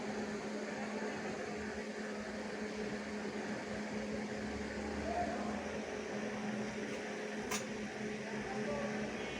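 A repaired mini mill machine's motor spinning steadily, a constant mechanical hum and whir with an even drone throughout and one brief high click near the end.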